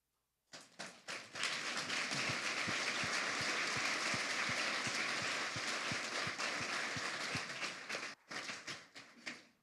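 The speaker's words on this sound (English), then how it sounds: "please stand so that we can give you a round of applause." Audience at a city and county State of the City event applauds for about eight seconds, a dense, steady wash of clapping with individual claps standing out, then a brief pause and a few scattered claps at the end.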